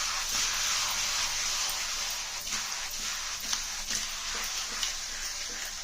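Marinated tail fish with salt and chili is added to hot oil and stirred, giving a steady, fairly quiet sizzle and hiss with occasional small scraping clicks.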